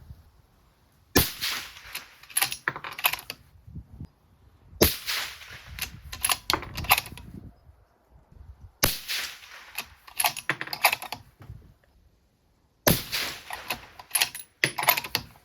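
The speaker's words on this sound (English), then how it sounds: "that's the first 5 shots through the gun" Four clusters of sharp, loud cracks from a 6.5 Creedmoor rifle with an Ace barrel, firing Starline brass and CCI 450 primers, with reports and echoes spaced several seconds apart across a 5-shot group, and no talk.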